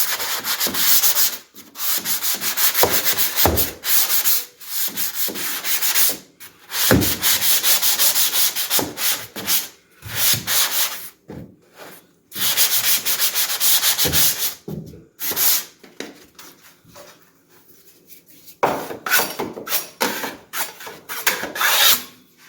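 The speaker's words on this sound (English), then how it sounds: "this is our traditional three-way that we're going to sand out now" Sanding of a paper-taped drywall inside corner gives a loud, steady scratchy rasp in repeated strokes, broken by short pauses, close up and with no talk over it.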